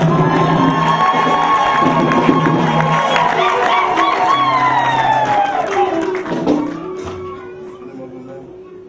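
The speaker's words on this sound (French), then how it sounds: "Est-ce que nous pouvons acclamer très fort?" A church congregation at a pastors' consecration service cheers loudly, a crowd of shouting and whooping voices with some clapping that stays strong, then tails off after about seven seconds.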